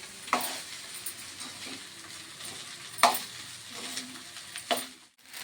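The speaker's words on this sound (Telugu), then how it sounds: "కలపండి ఇదిగోండి నేను కలుపుతున్నా" Spinach rice being stirred in a hot pan, a steady sizzle with sharp spoon scrapes at a few points, close and continuous with no talking.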